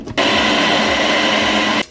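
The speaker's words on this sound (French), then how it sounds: "Et maintenant, nous allons mixer." Blender whirring steadily as it mixes an almond and cherry smoothie, a loud continuous buzz starting abruptly and cutting off after under two seconds, no talking.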